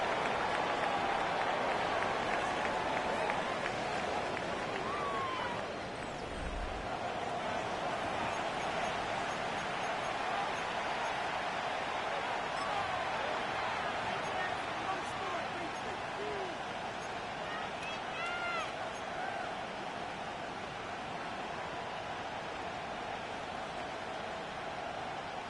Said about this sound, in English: This crowd into it now